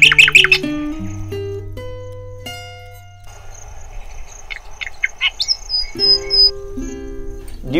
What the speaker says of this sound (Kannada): Parrots are coming and damaging the pomegranate.